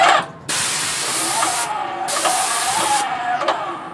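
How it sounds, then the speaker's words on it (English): Graco Ultimate MX II 695 airless paint sprayer spraying a garage door, giving two sustained loud hissing bursts of about one and a half and one second, with a short gap between them and quieter hiss around them. "I'm going to just go ahead and spray."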